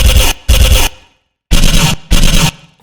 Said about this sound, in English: So this is just like a laser loop or something.